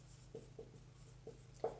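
Chalk or marker tapping and scratching on a board during a current affairs class, a few short sparse strokes, faint, with no talk over them.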